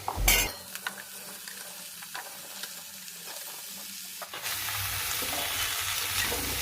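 Radish, potato and pumpkin frying in a pan while being stirred, a brief scrape up front giving way to a steady, close sizzle that swells louder toward the end, with no talking.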